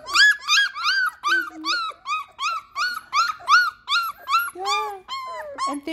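A three-week-old Mountain Blue Doodle puppy whimpers and cries loudly in a steady run of high, squeaky yelps, close to the mic and repeating about twice a second.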